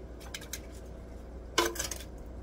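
Crispy air-fried chicken crunches in a few short, sharp bursts: a light, scattered cluster early on, then a louder, close crackle a moment later, over quiet kitchen background.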